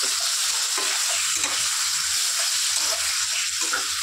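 Masala is stir-fried in a pan with a dense, continuous sizzle and hiss, and soft scraping and bubbling textures run underneath, with no talk.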